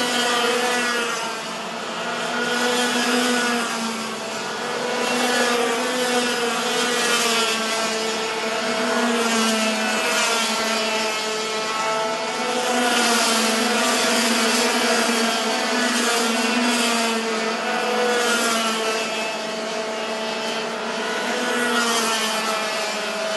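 Junior racing karts in a Japanese FP-Junior championship round, three of them fighting for fifth place, their small engines whining steadily and loudly with wavering pitch throughout, no voices audible.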